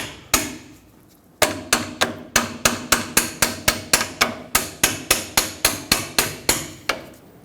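A hammer taps the tie rod adjusting sleeve clamp on a 2011-2016 Ford F-350, striking about twenty sharp metallic blows in a steady, fairly quick rhythm after one opening hit and a short pause, close and loud.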